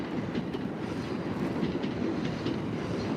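Shinkansen and Tokaido line trains at Tokyo Station, heard as a continuous broadband rumble of passing rail cars with faint rhythmic clatter, steady and fairly close.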